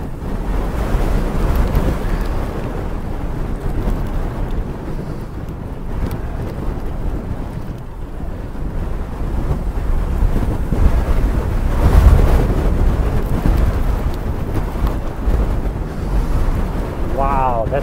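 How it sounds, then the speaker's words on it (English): Strong, steady wind roars across the microphone outdoors for the whole stretch, a dense rumbling buffet that swells and eases in gusts, with a faint voice briefly audible underneath. "And there's a pretty good wind blowing in here."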